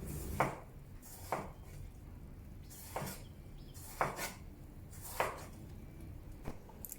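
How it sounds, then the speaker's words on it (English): A knife chops a tomato into wedges on a cutting board for ABC soup, with about seven separate sharp cuts spaced roughly a second apart, close and moderately loud against a quiet kitchen background. "Cut the tomato into wedges or thick slices."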